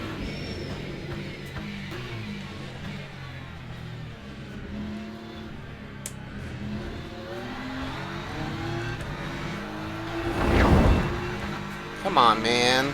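A race car engine in the video game Le Mans Ultimate drones steadily at high revs, rising and shifting with a brief louder surge near the end, while a voice talks over it.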